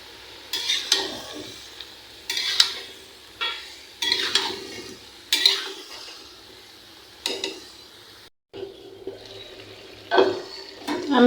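Bottle gourd is stirred in a cooking pan with salt and turmeric for a lau chingri dish. Repeated bursts of scraping and clanking come at steady intervals over a faint sizzle, close by, with no speech.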